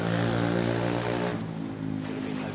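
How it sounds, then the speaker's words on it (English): Loud, close roar of a plane landing at Manila Airport, engine drone with steady tonal hum filling the whole moment and easing slightly toward the end. "Also giving us a little bouncy landing there."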